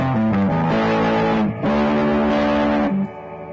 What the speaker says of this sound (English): Now we'll change it to the hot mode, and that brings in more of the middle tones.